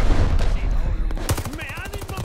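Assault rifle fire from the VOLK in the video game Call of Duty Vanguard: a dense automatic burst of rapid, loud shots with a steady rhythm, repeating through the short clip over game background noise.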